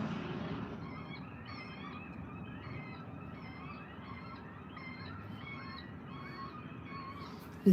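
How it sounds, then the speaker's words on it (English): Seagull calls repeat in quick bursts, faint and distant over a low background rumble, with no talking. "You can hear the seagull thing."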